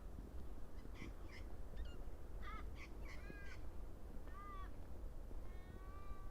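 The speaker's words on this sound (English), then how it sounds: "That's a crow." A crow caws in several short, harsh bursts at moderate distance above a steady wash of ocean surf at daybreak by the Bogey Hole coastline.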